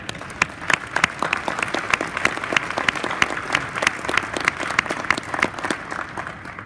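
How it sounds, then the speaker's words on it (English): A hall of fame induction audience claps in a full, steady round of applause, with individual sharp claps standing out close by over the dense crowd clapping. "So I'd like to give you guys a round of applause."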